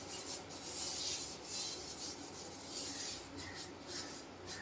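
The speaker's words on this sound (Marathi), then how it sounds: "हे तेल आपण आता असं सगळं तव्याला पसरवून घेणार आहोत" Oil is spread across a hot iron griddle for moong dal dosa, giving a soft repeated rubbing and scraping in short sweeps, faint and close with no talk.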